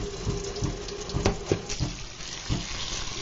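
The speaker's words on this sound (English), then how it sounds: "I'm going to fill up the pot with water" Tap water runs steadily into a cooking pot as it fills, a soft, even rush with small splashy pulses. The sound is quiet and close, with no talking.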